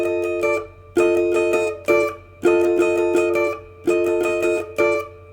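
Full-speed guitar strumming pattern for a song, loud and close, with crisp chords in a syncopated rhythm of bursts, some cut short by muted gaps, and no talking.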